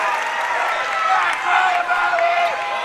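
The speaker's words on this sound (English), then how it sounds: "Loud crowd here in this one." A dense, steady roar of a cheering crowd fills a boys' high school basketball semifinal gym, continuous and loud with voices blended into the din.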